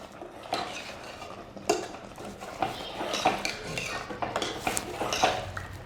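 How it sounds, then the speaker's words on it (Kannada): Raw chicken being stirred with ground masala in a pan, giving repeated close scraping and clinking of a utensil against metal in an irregular rhythm, with no talking. "ಇವಾಗ ನಾವು ಇದಕ್ಕೆಲ್ಲ ಹಸಿ ಹಸಿ ಹಾಕಿರೋದ್ರಿಂದ ಚೆನ್ನಾಗಿ ಮಿಕ್ಸ್ ಮಾಡ್ಕೋಬೇಕು"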